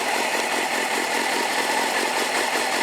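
A warmed-up 2001 Suzuki GSX-R 750 motorcycle engine runs steadily during a throttle body sync, a dense, buzzy, even drone that holds close and loud throughout with no speech.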